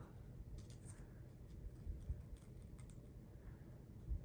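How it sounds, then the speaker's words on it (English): Scissors cutting ribbon while making a stacked boutique bow, with faint, close snips and rustles over a low background rumble, no speech. "Now this one I am gonna cut because we're done making all of our loops"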